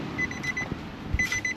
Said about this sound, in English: All right, scanner powering on.